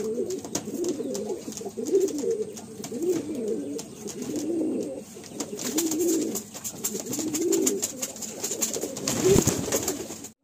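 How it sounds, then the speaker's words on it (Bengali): Giribaz pigeons in a loft giving low, rolling coos in repeated phrases, fairly close, over faint background noise and a few scattered clicks. "আমার ঘরে 4টে গিরিবাজ পায়রা আছে"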